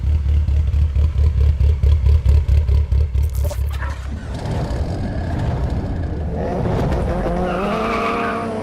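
A rusty 2003 Mitsubishi Lancer Evolution VIII runs and drives. First comes a loud, throbbing engine pulse, then a rising rev with tire noise and clatter as the car pulls away, close to the listener and with no talking.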